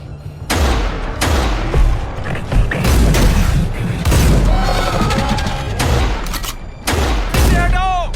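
Dense battle-film gunfire laying down cover fire, with rapid overlapping shots and heavy booms pounding continuously at close range, a few brief gaps between volleys.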